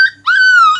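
A dog yelps after a sweet-maker frying sweets at a wedding strikes it with a ladle: one short high cry, then a longer, louder whining yelp that wavers and fades, close and alone.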